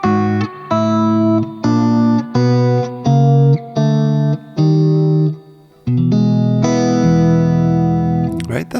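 A guitar plays two melodic lines in counterpoint, one ascending while the other moves the opposite way, with a heavily effected, sustained tone. Chords ring out in separate even strikes, then settle into one long held swell.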